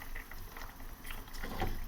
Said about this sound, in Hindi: चलिए थोड़ा सा बॉईल आने देते हैं